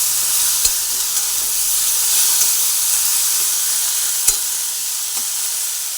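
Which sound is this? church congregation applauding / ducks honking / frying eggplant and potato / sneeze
frying eggplant and potato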